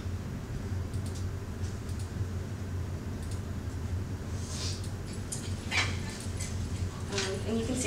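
A new dog meets a resident dog while one is held on a leash, with faint yips, whimpers and soft barks breaking through a low background hum in scattered short bursts.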